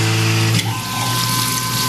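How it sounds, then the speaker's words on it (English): A Tormach PCNC 1100 CNC mill drills through a fixture plate, giving a loud, continuous mechanical whir with steady tonal hum, a brief shift in pitch partway through, and no voices. "I can drill through because I'm drilling through right above a T-slot."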